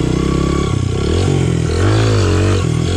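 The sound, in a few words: Honda CRF100F dirt bike revving, clutch popped for wheelie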